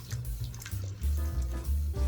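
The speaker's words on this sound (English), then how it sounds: "we're just going to go ahead and add the rest of that half cup, or that remaining half cup of water" Water poured into a pan of alfredo sauce for chicken and shrimp pizza, a steady close liquid trickle and splash lasting about two seconds with no talk.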